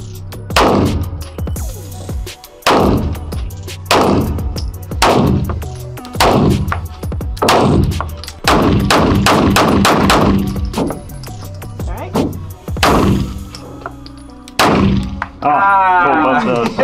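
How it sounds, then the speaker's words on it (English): Rapid loud gunshots crack out at an outdoor shooting range, a fast string of close, sharp reports with brief pauses between bursts and a final few spaced shots, with faint voices in between. "I want to shoot your gun."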